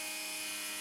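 An angle grinder fitted with a Kutzall or Graff carving disc cuts through 32mm timber in a brief burst of loud, steady, high whining, close by and alone.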